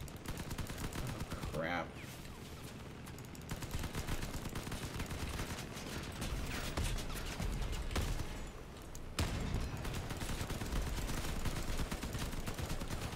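Rapid bursts of automatic gunfire from a gunner on a tower in the vehicle combat game Crossout, loud and sustained across the clip with a brief lull, while a man briefly exclaims.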